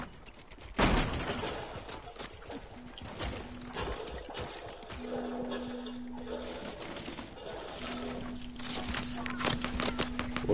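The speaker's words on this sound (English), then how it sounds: "Whoa, they're shooting at us." Gunfire from enemies shooting at players in an online shooter game near a church, with scattered shots and a rattling volley over steady game ambience while players talk throughout.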